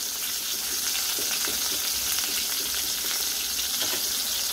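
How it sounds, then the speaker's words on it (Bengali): Eggplant frying in a pan, a dense steady sizzle with soft crackles throughout, close and even, with no voices. "বেগুন ভেজে রাখছি।"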